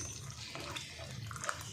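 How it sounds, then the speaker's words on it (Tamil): Milk pours steadily into a pot, splashing soft and close, with a few faint clinks. "நம்ம என்ன பண்ணுறோம், பாலை ஊற்றிடுவோம்."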